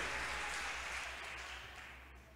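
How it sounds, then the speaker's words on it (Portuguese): Church congregation applauding in praise during a Portuguese-language sermon, a steady wash of many hands clapping that fades slightly toward the end, fairly distant and quiet with a low hum beneath. "Pode dar um forte aplauso ao Deus que fala conosco?"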